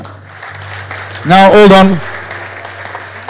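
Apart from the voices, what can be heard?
audience applause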